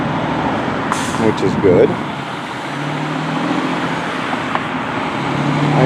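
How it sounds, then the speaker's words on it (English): Steady road traffic from trucks at the Port of Wilmington, Delaware, a continuous low rumble with a brief hiss like an air brake, with a person talking over it nearby. "it seems to have plenty of truck traffic"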